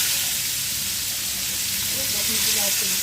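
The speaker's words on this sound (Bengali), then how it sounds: "মাছটা দিয়ে দিচ্ছি তেলের মধ্যে" Fish sliding into hot oil in a home kitchen gives a loud, steady hiss and sizzle close by, with faint background sounds and no clear talk.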